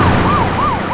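A police car siren wails loudly and close, its rising and falling tone sweeping up and down about three times in quick succession with no voices over it.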